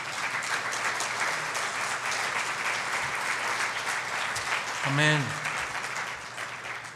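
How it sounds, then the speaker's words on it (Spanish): Sustained applause from a church congregation, with hands clapping throughout while a voice briefly speaks near the middle. "Denle una ofrenda de palmas al Señor."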